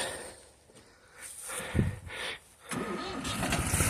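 A Jinma 254 tractor engine rumbles and revs as it pulls away outdoors, rising and falling in loud bursts before settling into a steady drone, with no speech.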